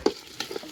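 Crushed ginger and garlic hit a hot pan, giving a short burst of sizzling frying with a couple of stirring scrapes, close and fairly quiet, for a country chicken chilli fry.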